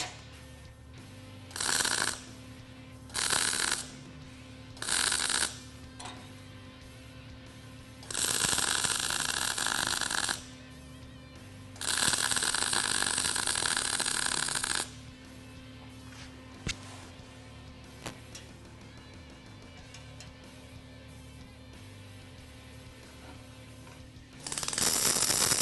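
An Eastwood 135 DC-rectified MIG welder lays T-welds on 1/8-inch steel plate, giving short, loud crackling buzzes of one to three seconds separated by quiet gaps, with a few longer runs between them.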